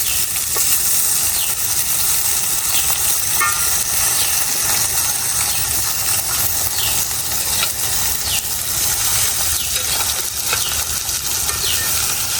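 Eggplant pieces fry in hot mustard oil with a steady, loud, close sizzle that runs without a break, with light clinks and stirring scrapes now and then.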